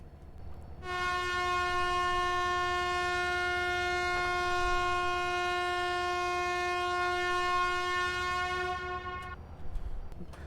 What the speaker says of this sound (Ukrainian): Зачекайте, потяг ще не став куди треба.